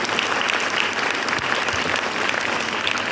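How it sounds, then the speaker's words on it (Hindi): An audience claps for the teachers and principal at a school program, a steady, even wash of applause from many hands, fairly close and sustained throughout with no talking. "सब टीचर्स के लिए, प्रिंसिपल के लिए तालियां लगाएं।"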